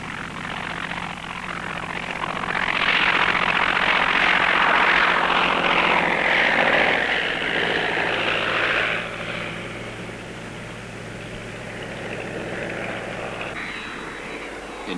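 A reconstructed SE-5A biplane, a First World War fighter, runs its aircraft engine with a broad, steady roar that swells loudest in the middle and then settles to a lower drone. No voices are heard.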